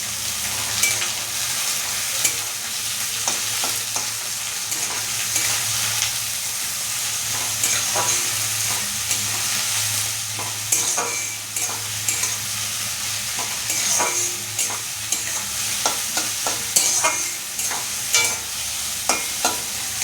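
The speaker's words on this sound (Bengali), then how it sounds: "পেঁয়াজগুলো দিয়ে দিচ্ছি দিয়ে একটু ভেজে ভেজে নেবো" A steady sizzle of onions frying in a pan, with scraping and clinking as they are stirred repeatedly throughout.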